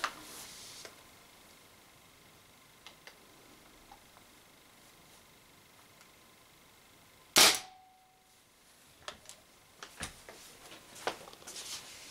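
A Spyder MR6 paintball marker fires a single loud, sharp shot of a Z-RAM slug. A few faint clicks and handling taps come before and after it against quiet background hiss.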